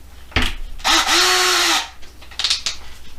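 A power drill fitted with a small bit bores into a die-cast Hot Wheels toy car, giving one short buzz and then a steady whine of nearly a second that winds down, with brief rustles and handling noise before and after.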